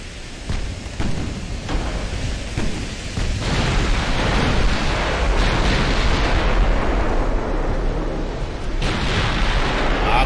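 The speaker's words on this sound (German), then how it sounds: "Da sind nochmal Granaten von dem Schlachtschiff." Battleship shells and explosions in the naval combat game Ultimate Admiral Dreadnoughts: a dense, loud wall of rumbling booms and crashing blasts that swells and holds steady, with no voices.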